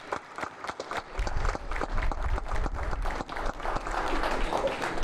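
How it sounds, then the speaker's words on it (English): Audience applause at the 21 Charlie graduation ceremony, a dense, steady wash of clapping from a sizeable crowd that holds for several seconds, with a low rumble and some indistinct voices mixed underneath. "Let's give our 21 Charlie students another round of applause"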